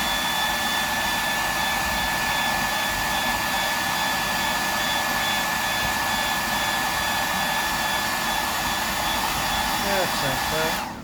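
A heat gun or blower runs steadily and loudly throughout, drying runny paint on a freshwater bass fishing lure; the constant airy roar cuts off abruptly at the end.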